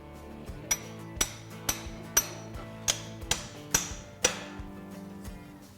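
A metal punch is struck with a hammer to drive out the wedge of a leg vise mounting bracket, giving about ten sharp, ringing metallic hits at an uneven pace, close and loud with no talk.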